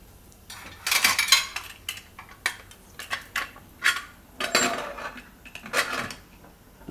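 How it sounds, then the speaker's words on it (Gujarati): A metal pressure cooker lid clanks and scrapes against the pot in a home kitchen, a run of sharp close metallic knocks and rattles in an irregular rhythm with short quiet gaps between them. "હવે કુકરનું ઢાંકણું બંધ કરી દે."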